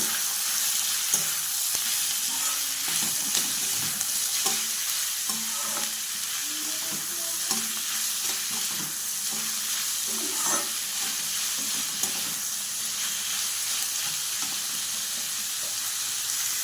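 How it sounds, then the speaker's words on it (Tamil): Onions, green chillies and curry leaves sautéing in a pan for an egg stir-fry, giving a steady close sizzle with intermittent stirring scrapes throughout, no voices. "பச்சை மிளகாய் வெங்காயம் கருவேப்பிலை வெங்காயம் போட்டு நல்லா வதக்கிக்கலாம்"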